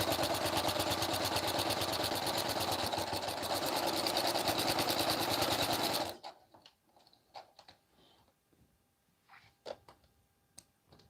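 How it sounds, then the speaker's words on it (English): A sewing machine runs a straight stitch along a romper seam, a steady rapid mechanical whir for about six seconds, then stops, leaving only faint clicks and handling noises. "Straight stitch all the way back down, same thing that you did to the other side."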